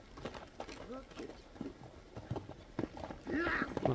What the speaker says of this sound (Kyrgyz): Аттын кийиги чыкты биринчи номерде.